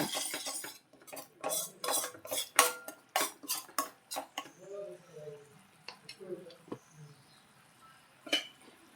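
A spoon stirs sweetcorn with masala and coriander in a bowl, making a run of quick, crisp clinks and scrapes that thin out into softer, sparse taps, with a faint voice underneath.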